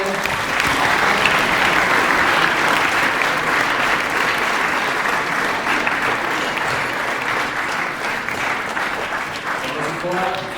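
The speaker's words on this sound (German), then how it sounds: "Und damit vielleicht einen kollektiven Applaus für alle" A crowd claps together in collective applause at an award show, dense and sustained clapping that stays loud throughout before easing slightly.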